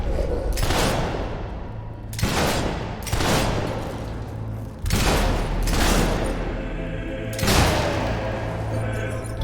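Rifle shots in the video game Fable 3 come as about five heavy, booming blasts spaced a couple of seconds apart, each trailing into a rumbling decay.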